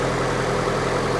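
A 2-liter overhead-cam four-cylinder engine idles slightly shaky, likely needing an engine mount, giving a steady, even rumble at close range with no talk over it.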